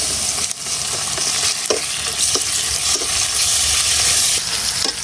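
Ginger-garlic paste fries with browned onions in hot oil, a loud, close, continuous sizzle broken by a few stirring scrapes, with no voices.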